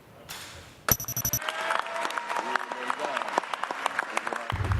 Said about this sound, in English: A warm applause greeted President-elect Bongbong Marcos and her wife Liza Araneta Marcos.